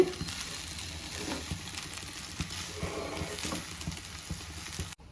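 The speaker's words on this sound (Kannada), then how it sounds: "ಹಾಕಿ ಎಲ್ಲ ಒಗ್ಗರಣೆನ ಸರಿಯಾಗಿ ಮಿಕ್ಸ್ ಮಾಡ್ಕೊಳ್ಳಿ." Cooked rice is stirred into a sizzling tempering in a pan for field-bean chitranna, giving a steady close crackle with scraping stirs throughout.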